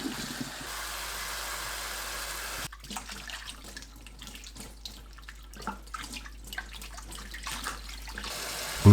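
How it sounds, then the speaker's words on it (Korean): Fresh dandelion leaves are rinsed under a running kitchen tap, a steady hiss of water that turns into irregular splashing and sloshing as the leaves are handled, close and continuous without speech. "깨끗하게 여러 번 씻어줍니다."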